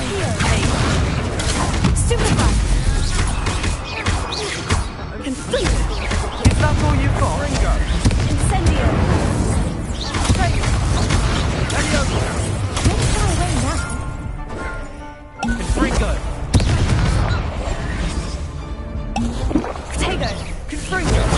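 Confringo fire-blast spells exploding in Hogwarts Legacy, repeated booming blasts and crackling impacts over a busy combat mix, with a voice talking throughout.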